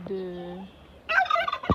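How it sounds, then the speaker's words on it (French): Turkeys gobble nearby, a drawn-out warbling call followed by a quick rattling gobble and a short squawk. "des dindons,"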